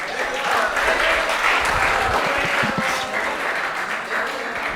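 Classroom students clap for themselves during a business mathematics probability revision lesson, a steady, dense wash of applause filling the room, with a faint voice now and then underneath.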